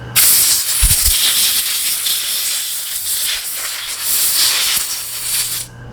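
An aerosol can of carburetor cleaner sprays onto a Walbro chainsaw or weed trimmer carburetor in a loud, continuous hiss lasting several seconds, with a brief soft thump near the start before the spray cuts off.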